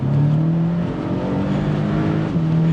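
Porsche 718 Boxster with a 2-litre turbo engine making 295 horsepower, a steady close engine note with a slight rise in pitch, heard alone without talk.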